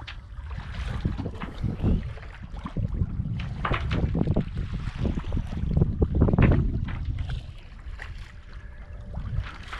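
Gusty wind rushes and buffets across a Catalina sailboat sailing from Lanai back to Maui, rising and falling in uneven surges along with the wash of water against the hull.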